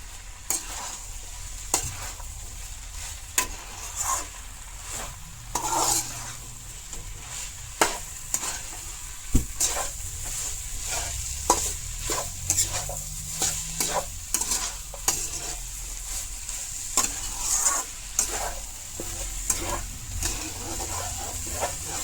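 Vegetables such as bamboo shoots, jackfruit seeds and banana flower are stirred in a sizzling pan while the water cooks off, with repeated scraping strokes at an irregular rhythm over a steady frying hiss.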